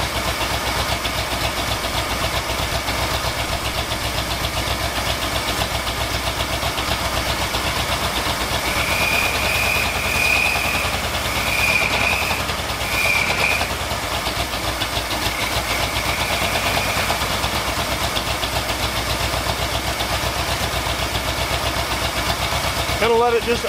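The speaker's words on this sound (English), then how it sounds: "Gonna let it just idle and warm up all the way before I start trying to tune on anything." A 1979 Ford F250 Ranger with a newly installed carburetor idles cold and steady, a constant mid-pitched engine drone with faint knocking running unbroken throughout.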